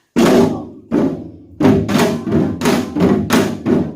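A Korean janggu drum struck in a lesson-style rhythm: deep booming hits mixed with sharper slaps, loud and close, about eight strokes in a steady pattern with a brief gap after the first two.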